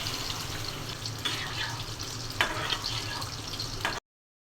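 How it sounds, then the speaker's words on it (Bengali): Water and green chillies go into a pan of frying egg masala, giving a steady sizzle with bursts of bubbling and stirring, fairly quiet and close, then sudden silence. "আর দিয়ে দিচ্ছি কাঁচামরিচ, দিয়ে দিচ্ছি পানি।"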